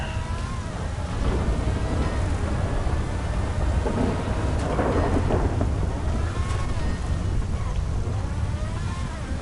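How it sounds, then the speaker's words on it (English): Steady rainfall and rolling thunder from a storm in the video game GTA Online, a dense continuous wash of rain with low rumbles swelling near the middle, with no talking. "Probably should have done this in dry conditions, because this wet, rainy stuff is not working."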